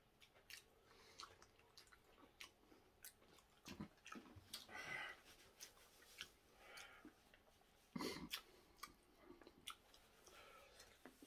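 Raw cutlassfish sashimi being chewed close up, quiet wet smacks and soft clicks in an uneven rhythm, with faint sounds in the background.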